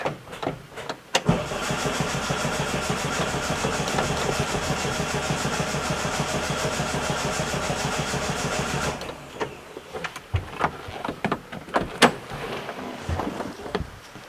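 1966 Volkswagen Beetle engine cranking after sitting about two months, starter churning in a fast even rhythm for roughly eight seconds without catching, then stopping, followed by clicks and small handling noises nearby.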